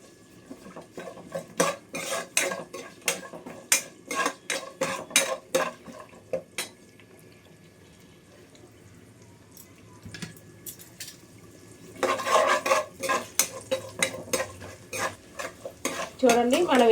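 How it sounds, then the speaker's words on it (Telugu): Cumin, cashews, bay leaf and cardamom fry in a pan, heard as a soft sizzle under bursts of spoon scraping and stirring, with a quieter lull in the middle before the stirring picks up again. "కొంచెం జీలకర్ర, జీడిపప్పు, బిర్యానీ ఆకు, యాలకులు ఇవన్నీ వేసుకోవాలి. ఇవి 2 నిమిషాలు ఫ్రై అవ్వాలండి."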